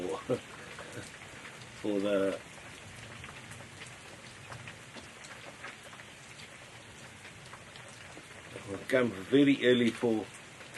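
Steady rain falling on a South African game reserve in Zululand on an early-season morning, a continuous soft hiss throughout, with brief bursts of speech cutting in near the start and again toward the end.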